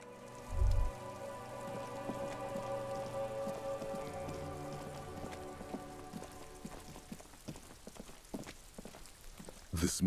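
Rain in the video game Disco Elysium patters steadily on surfaces, a soft, continuous wash of droplets with scattered sharper ticks, faint and even throughout, with a low thump at the start.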